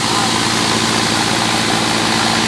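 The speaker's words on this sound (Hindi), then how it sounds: "ट्रैक्टर अर्जुन है" Arjun Novo 605 DI tractor engine driving a thresher, a loud, steady, close mechanical drone and vibration that holds constant throughout with no speech.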